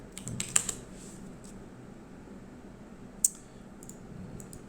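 Keys clack in scattered bursts on a computer keyboard during a file search, with a sharp cluster of strokes early and one crisp tap later, close and fairly quiet against a soft room hiss.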